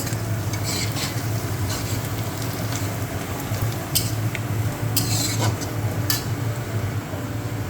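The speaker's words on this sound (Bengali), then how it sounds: "আর ওই পেঁয়াজটা আরও লাল লাল করে ভেজে নেব" Onions and a ground cardamom and cinnamon paste fry in a pan for a goat meat curry, a close steady sizzle broken by light metallic clinks and scrapes of a spoon stirring against the pan.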